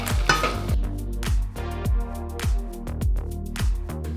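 Onions and kidney beans cook in a pan, stirred in a repeated rhythm of squelching scrapes over a soft sizzle, close and fairly loud.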